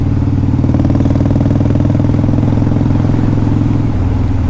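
A 2002 Harley Davidson Dyna Wide Glide motorcycle engine runs close and loud, with a steady throbbing idle and lumpy rhythmic pulsing that holds for the whole stretch.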